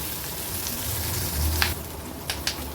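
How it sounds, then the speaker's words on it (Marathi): Mustard seeds, cumin, crushed ginger-garlic and green chillies sizzle and crackle in hot oil with a steady hiss, punctuated by a few sharp pops and spatters near the end. "राई, जिरं, आलं लसूण क्रश आणि मिरची व्यवस्थित तेलावर आपल्याला परतून घ्यायची आहे"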